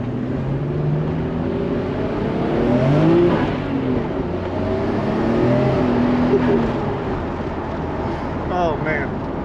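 A Honda Civic drives along with a steady engine drone and road and wind noise that swells as it accelerates, with someone talking over it throughout.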